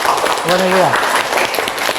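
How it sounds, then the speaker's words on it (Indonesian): Clapping from a classroom of students fills the room, a steady patter of many hands with a brief voice rising over it. "bagus, tepuk tangan semua ya"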